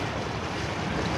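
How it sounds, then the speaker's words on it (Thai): Steady broadband wash of ocean surf on the Pacific coast near Washington and Oregon, continuous and fairly loud with wind rumble, no voices. "อันนี้ทะเล"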